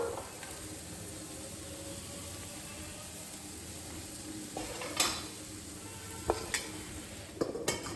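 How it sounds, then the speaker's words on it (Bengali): Eggplant pieces salted and coated in turmeric fry in a pan for begun jhal, giving a low continuous sizzle, then a few sharp clanks and scrapes of utensils toward the end. "দু মিনিট চাপা দিয়ে রাখবো,"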